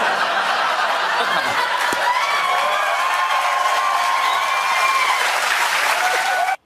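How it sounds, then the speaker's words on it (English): A television studio audience claps loudly and steadily, with scattered laughter and cheers mixed in, before the applause cuts off abruptly. "why are people clapping for sunglasses?"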